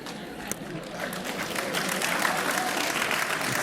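A crowd at a tech talk applauds a question from the audience, scattered clapping building into sustained, moderately loud applause that continues to the end.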